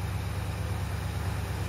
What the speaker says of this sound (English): We're idling about 950, and it's very cold out still.